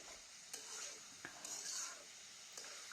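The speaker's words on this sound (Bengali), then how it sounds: "ভালো করে নেড়েচেড়ে মশলাটার সাথে একটু মিশিয়ে নিচ্ছি" Vegetables and spices are stirred in a cooking pan over steady sizzling, with a spoon scraping and knocking against the pan a few times.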